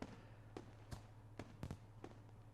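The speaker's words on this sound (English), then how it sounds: "With faint pops, fireworks begin to go off in the sky" Faint fireworks popping in the Katawa Shoujo visual novel, six or seven soft distant pops at uneven intervals over a low steady hum, quiet and with no voices.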